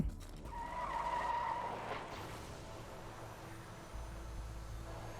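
A car skidding in the video game Borderlands 2, a loud tire squeal in the first two seconds fading into a lower engine rumble, alone with no talk.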